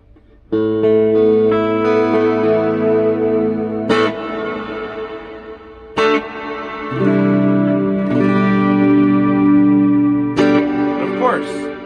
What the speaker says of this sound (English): Now, this is just the standard reverb.